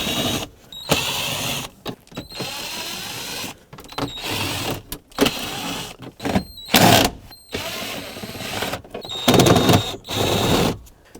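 T25 bolts come out one after another from around the glove box of a 2001-2007 Volvo V70, with repeated short whirring mechanical bursts broken by brief silences, loud and close.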